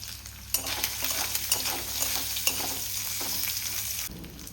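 Cashews and almonds fry in a pan with a continuous close sizzle, broken by repeated scraping stirs and light clinks of a spoon against the metal.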